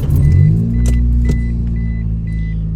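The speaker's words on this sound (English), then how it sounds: "Let me start my car and show you." A 1991 Mazda 323 car is started; keys jangle close by and the engine catches and settles into a loud, steady idle, with faint light clicks over the running motor.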